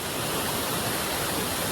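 Steady, full roar of water pouring at Dyson Falls, a constant broadband rush with no pauses, close and fairly loud, with no voices over it.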